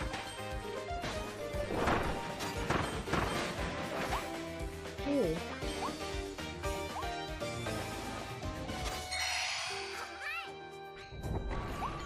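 Something large breaks apart and crashes down in the Kirby game Kirby and the Forgotten Land, giving heavy repeated smashing thuds over busy game music, then a final collapse near the end.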